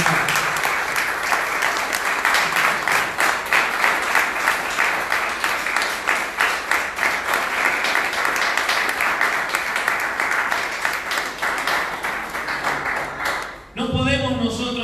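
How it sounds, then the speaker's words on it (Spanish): Congregation at a religious service applauding steadily, a dense, loud wash of many hands clapping that holds for about fourteen seconds before cutting off abruptly. "Vamos a darle un aplauso al Eterno."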